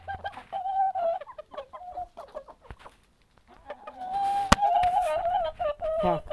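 A rooster crows repeatedly, with clucking and other fowl calls around it, close by. A sharp click cuts in near the end.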